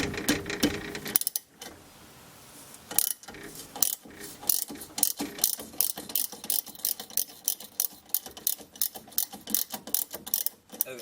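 A ratchet turns a 13 mm bolt during a Volkswagen Beetle brake job, a long series of rhythmic clicking strokes after a short pause, close and fairly loud with no one talking.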